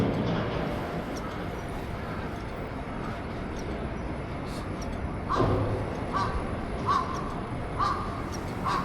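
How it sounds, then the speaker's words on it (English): Crows caw several times, a few seconds apart, over the low background hum of a quiet morning in Sapporo, Hokkaido, with the calls coming from moderately far away. "I hear a lot of crows though."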